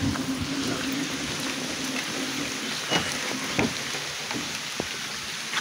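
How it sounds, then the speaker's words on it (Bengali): Rain falls outdoors in a rural area beside jute and dhaincha fields, a soft steady patter with scattered nearby drips and knocks, fairly close and without talk. "এই যে দেখছেন বৃষ্টি পড়তেছে"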